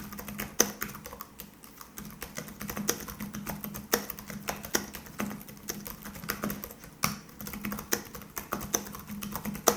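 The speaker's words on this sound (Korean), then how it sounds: "이 제품의 타건감을 한번, 그리고 키보드 소리를 들려드릴게요." Close, steady typing on a Microsoft Compact Designer Bluetooth keyboard, with crisp individual key clicks in a quick irregular rhythm and occasional louder strikes, no voices.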